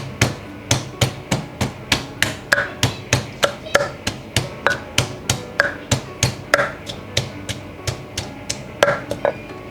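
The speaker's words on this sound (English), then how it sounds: "We crush the garlic." Garlic pounded in a mortar with a pestle for spicy Thai fruit salad, heard as a steady run of sharp, evenly spaced thuds, about two per second, loud and close with no talking.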